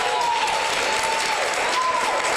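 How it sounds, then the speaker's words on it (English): Board meeting audience applauding present members: a continuous, loud wash of clapping throughout, with a faint tone running underneath. "So let's give the guys that are present a big round of applause."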